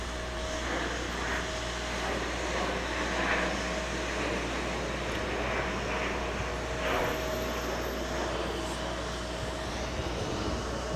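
A jet airliner departing JFK for LAX and banking after takeoff, a broad, steady engine roar with a faint whining tone, moderately loud and sustained, with no talking.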